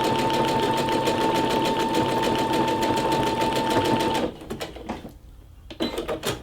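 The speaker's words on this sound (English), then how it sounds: "This is just on one leather. I am using a design stitch rather than a utility stitch." Brother SE625 sewing machine running a design stitch on leather, a fast, even mechanical chatter with a steady whine that stops abruptly, followed by a few quieter clicks and handling sounds.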